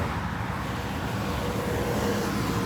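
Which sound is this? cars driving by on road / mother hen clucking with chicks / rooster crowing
cars driving by on road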